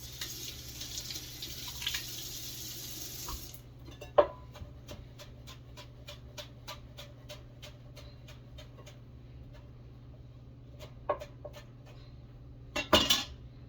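A kitchen tap runs over fresh cilantro in a sink for a few seconds, then stops, followed by quiet clinks of dishes and utensils.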